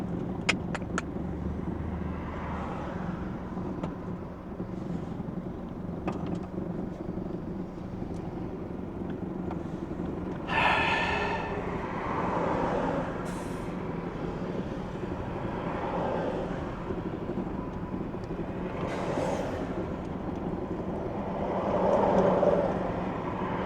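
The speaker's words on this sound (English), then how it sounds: "There is a bad traffic jam" Slow road traffic in a bad jam while crossing Nakuru on a drive from Thika to Vihiga, a steady low engine rumble from idling and creeping vehicles with occasional passing swells and wind buffeting, no talk.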